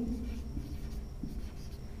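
A pen writes out a math proof for a class 10 triangle problem in a string of soft, scratchy strokes close by. The strokes come in short bursts with brief pauses, and no one speaks.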